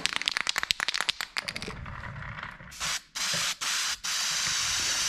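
Spray paint from an aerosol can is applied in coats to engine parts from a 1955 Chevy; a run of short hissing bursts is followed by several longer sustained sprays, loud and close, with brief pauses between.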